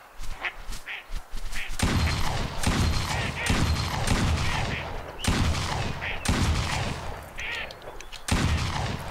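Repeated shotgun blasts at ducks in the Duck Dynasty hunting video game, loud and close, coming in a run of sharp booming shots spaced about a second apart, each with a short decaying tail.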